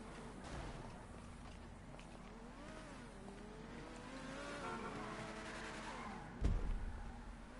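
A car engine in a PlayStation 4 video game hums steadily at moderate level with shifting revs and a brief louder burst near the end; no one talks during it.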